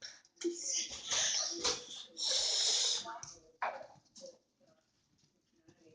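Young puppies whimper and snort in close, breathy bursts during the first half, then fade to faint scuffling.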